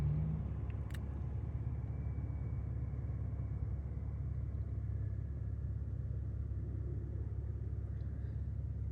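A small truck's engine runs in a steady, loud rumble as it strains to pull a larger truck stuck on a curb, the drone holding constant without clear revs.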